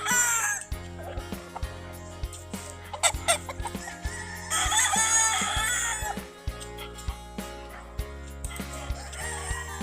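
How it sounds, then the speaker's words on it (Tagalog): Chickens cluck and a rooster crows repeatedly, loud and close, over steady rhythmic music playing throughout. "yung ingay ng mga manok"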